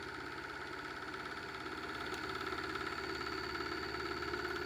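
A 3D printed pulse motor with a big rotor spins at roughly 800 to 1,200 RPM, giving a steady, close whirring drone with a dense buzzing hum and no voices.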